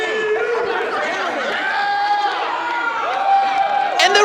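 A live crowd at an independent wrestling show keeps up a steady hubbub of chatter and scattered cheers, with a rise in excitement toward the end and individual voices calling out over the din.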